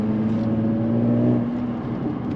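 Jaguar F-Type S with 380 hp and a sport exhaust with its valve open, giving a loud, steady close-up engine and exhaust drone with no talk.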